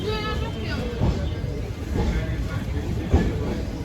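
A Veraval–Gandhinagar passenger train rumbling at Bhaktinagar station platform 1, with low mechanical noise, a few clunks, and people talking nearby.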